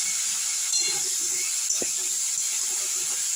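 Potatoes fry in hot white oil with a faint, steady hiss that runs unbroken throughout, joined by one soft tap near the middle.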